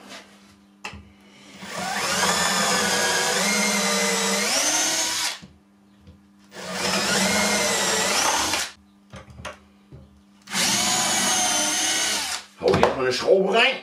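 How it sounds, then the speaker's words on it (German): A power drill pre-drills pilot holes in wood while a folding sawhorse is built, three sustained whining runs of a few seconds each with short pauses between, close and loud, followed by brief handling clatter. "Eben wieder vorbohren."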